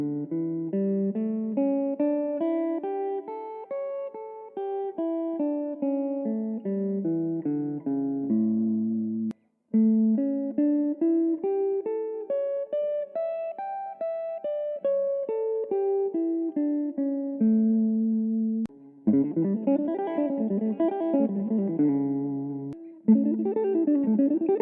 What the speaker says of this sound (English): So the dominant 11 pentatonic sounds like this.